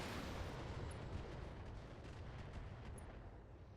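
Mech weapons fire in the BattleTech video game as a dense, rumbling barrage, a loud continuous roar of blasts and booms that fades slightly toward the end.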